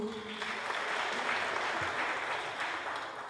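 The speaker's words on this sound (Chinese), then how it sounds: "好，那我们掌声谢谢柯牧师。" Applause from the audience at a memorial concert for a university president's wife, a steady patter of clapping hands lasting a few seconds, moderately distant and fairly quiet.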